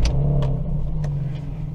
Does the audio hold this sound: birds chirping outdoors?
no